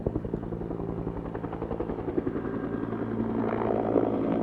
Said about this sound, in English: we have a helicopter coming right above us again